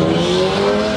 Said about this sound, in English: Do you hear that traffic?